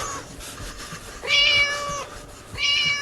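A cat in a video game gives two clear, drawn-out meows a little apart, standing out above faint background noise.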